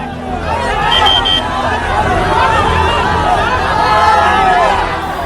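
Large crowd of supporters at Pawan Singh's road show in Karakat, a loud, constant babble of many voices with engines and movement mixed in.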